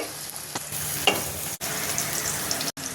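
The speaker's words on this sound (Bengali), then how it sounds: "এই নারকেল বাটা দিয়ে দিলাম" Malancha greens frying with shrimp and ground coconut paste in a Barishal-style dish, a steady sizzle and stirring that cuts out briefly twice.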